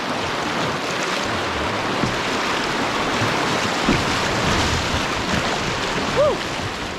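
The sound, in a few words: canoe paddling through rapids and waves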